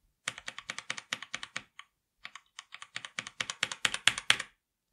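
Typing on a Logitech G513 mechanical keyboard fitted with Glorious Aura keycaps and no O-rings: quick runs of crisp, close clacky keystrokes with a brief pause midway, alone and fairly quiet.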